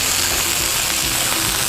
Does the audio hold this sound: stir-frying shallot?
yes